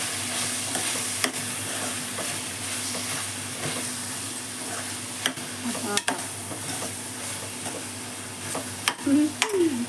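Mutton being stirred with two spoons of chili powder in a pan for gongura mutton, giving a steady low sizzle with scattered scraping taps of the spoon, close and moderately loud, no talking.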